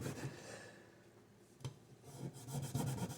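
A Scotch-Brite pad scrubs over a surface in a few quiet rubbing strokes, soft and close, with brief louder passes near the end.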